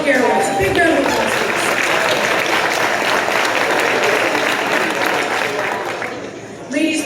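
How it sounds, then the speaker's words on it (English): Sustained applause from an audience at a women's aviation breakfast event, honoring guests from Lift Academy and Republic Airways: dense, steady clapping from many hands lasting several seconds, easing slightly near the end. "please give a big round of applause for our friends from Lift Academy and Republic Airways"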